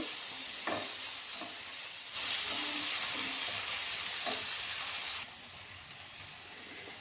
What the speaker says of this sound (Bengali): টমেটোগুলো দিয়ে আমি একটু ফ্রাই করে নেব।